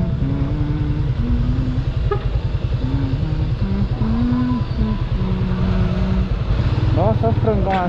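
A motorcycle engine idling and running nearby on a street, a loud steady low throb with pulsing firing rhythm throughout and a brief rise in revs near the end, while people talk over it.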